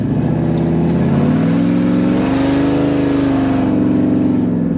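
A 2007 Shelby GT500 with exhaust cutouts revs and accelerates hard in second gear, a loud, close, deep engine roar climbing steadily in pitch.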